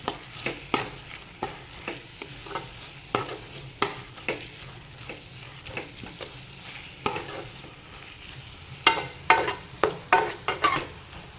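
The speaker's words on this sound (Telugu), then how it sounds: "కారం కూడా ఒకసారి కలిసేటట్టు కలుపుకోండి" Spinach frying in a pan with salt and chili powder, stirred by hand: a steady soft sizzle broken by repeated scraping stirs in an irregular rhythm, close and fairly loud, with no talking.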